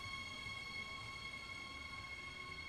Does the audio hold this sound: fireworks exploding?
no